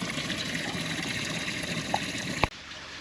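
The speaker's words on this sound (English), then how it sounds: "that's double the flow of water coming out." Water pouring steadily from a sailboat's air conditioning outlet, a continuous close gushing rush that stops abruptly after a sharp knock near the end.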